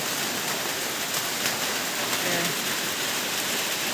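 Heavy rain from a storm pours down steadily in a rural cattle-farm setting, a dense, even hiss with no breaks throughout.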